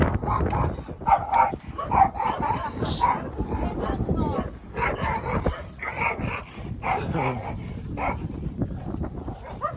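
Dogs bark and yip in repeated bursts throughout near a port in the Visayas, Philippines, mixed with a person talking and outdoor noise.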